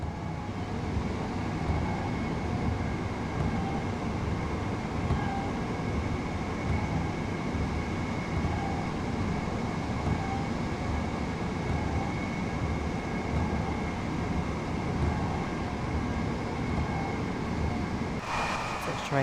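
A train in Train Sim World on the East Coastway route, running downhill under light braking, gives a steady, close rumble with a faint tonal hum that runs unbroken throughout.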